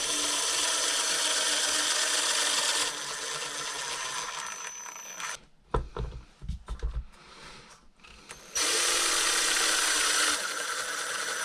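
A power tool whirs steadily while driving screws into the battery tray of a Traxxas X-Maxx RC truck, then pauses for a stretch of short rattling handling noises before the motor runs again.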